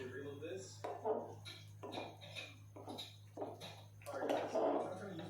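Cassava cake batter being stirred in a bowl, a utensil clinking and scraping the sides in repeated strokes close by, under a steady low hum, with a person speaking softly between strokes.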